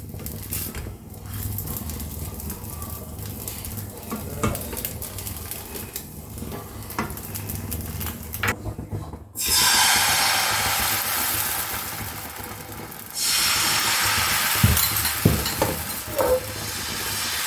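Patisapta, a rolled Bengali crepe, fries in a pan, giving a steady broadband sizzle that swells louder partway through and holds, with faint scraping stirs and no voices.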